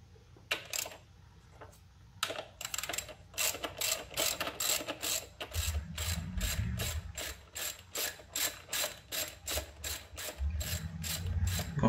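Hand ratchet loosening engine bolts on a 2002 Honda Civic during timing belt and water pump work: rapid, crisp metallic clicking in repeated bursts, close and fairly loud, with short pauses between strokes and no talk.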